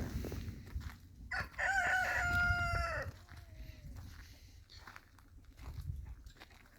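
A rooster crows once, loud and close, its long wavering call rising then trailing off, with faint rustling and footsteps around it.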